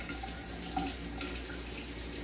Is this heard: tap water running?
yes